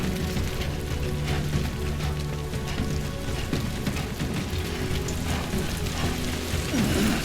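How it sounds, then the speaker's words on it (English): Steady rain falls in the video game Death Stranding 2, a dense continuous hiss of drops on surfaces that holds at an even level throughout, with low rumbling tones underneath and no talking. "Great. Rain. Gotta move."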